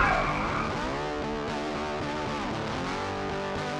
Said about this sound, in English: they heard a terrible screech and a wreck